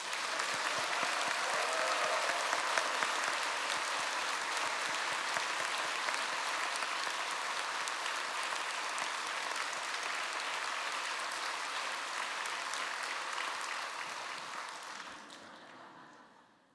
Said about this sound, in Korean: 성사의 하나님을 박수로 영광 돌립니다